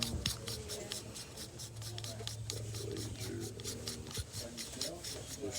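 Parts of a Griffin Armament Bushwacker 46 suppressor being screwed back together by hand, giving a steady close metallic rasping and rubbing with faint clicks throughout, without talk.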